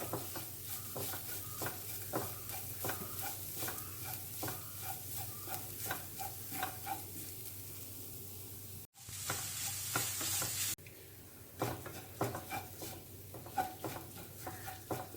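Grated coconut and green chilli mixture for a banana stem and green gram stir-fry being stirred in a pan, soft repeated scraping strokes over a faint sizzle, with a brief dropout and a hissier stretch partway through.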